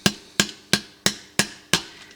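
Six sharp, evenly spaced hammer blows ring out on a metal strap being bent, loud and close, each strike decaying quickly before the next.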